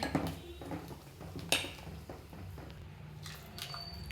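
Buttermilk sambar is served into a bowl in a home kitchen, with soft continuous clinks and scrapes of utensils against dishes and a wet, sloshing texture underneath. The sound is quiet and steady, with one sharper clink.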